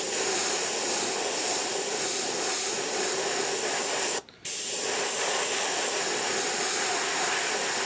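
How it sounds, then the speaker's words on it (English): A Revolution airbrush with a 0.5 needle sprays pearl paint onto a crappie fishing lure, giving a steady close airy hiss that runs throughout, broken once by a brief pause near the middle. "we're spraying it out of the Revolution"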